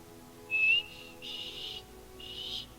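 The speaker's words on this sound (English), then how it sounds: "I'm also going to whistle at you." A character in a fantasy video game whistles in a few short tones: one bright rising note, then two longer, softer steady whistles, clear and alone over a faint background hum.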